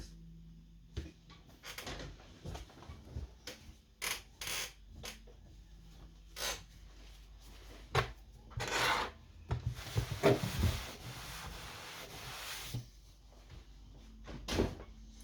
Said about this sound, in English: I'm actually gonna wipe this down because I don't want this stuff all over my